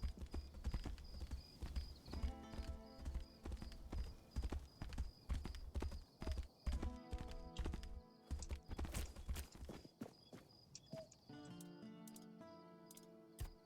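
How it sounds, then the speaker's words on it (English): Horse hooves clip-clop steadily in the fantasy game Tainted Grail: The Fall of Avalon, a continuous rhythmic trot with a brief whinny, layered over game music and ambience, the gait pausing and resuming partway through. "Here's a good ugly horsey."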